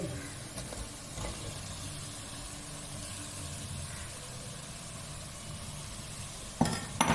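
Curry leaves, chopped garlic and green chillies frying in hot oil for a curry, a steady low sizzling hiss running throughout with a sharper burst of clatter near the end.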